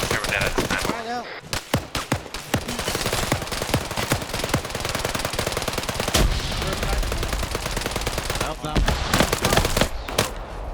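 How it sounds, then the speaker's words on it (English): Dense, sustained automatic gunfire fills a multiplayer military shooter match, near and loud, with rapid bursts overlapping and barely pausing, and players' voices talking underneath. "I'm hearing a lot of gunshots"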